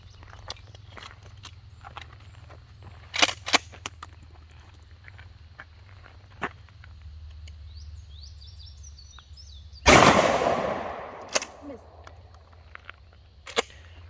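Shotgun shots fired on a training range during a shotgun workshop: a couple of sharp bangs early, then one loud, close blast with a long decaying tail near the middle, followed by a few lighter clicks and pops over low background rumble.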